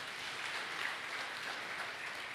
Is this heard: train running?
no